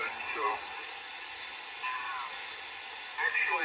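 Homebuilt Mythbuster II radio receiver being tuned across the band, giving steady band-limited hiss and static with brief swells of tuning whistles and chirps, fairly quiet and close.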